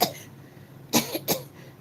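A person imitates a man's harsh cough, giving one rough cough followed by two sharp, close bursts of coughing, with a short pause between them.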